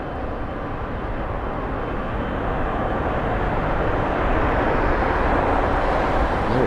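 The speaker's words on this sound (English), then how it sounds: "that was the Air Canada 7879 Dreamliner heading to Montreal" Air Canada Boeing 787-9 Dreamliner taking off from London Heathrow, bound for Montreal, as a loud, steady broadband jet roar that slowly builds in strength.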